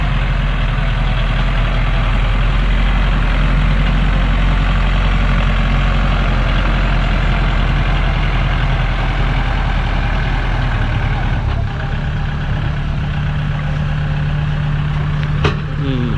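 A combine harvester engine runs steadily in a rice field, a loud, continuous low rumble and drone with a slight shift in tone near the end.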